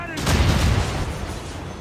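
Ship cannon fire in Assassin's Creed Rogue, a single close, heavy boom that rolls on in a long low rumble during a naval battle.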